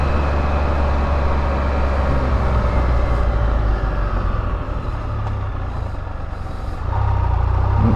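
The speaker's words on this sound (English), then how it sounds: "it's like this one had the same clutch sound as well" Engine and drivetrain of a 2022 Honda Africa Twin motorcycle fitted with a sidecar, a steady loud rumble carrying a clutch noise, dipping briefly in the middle before swelling again, with no talking.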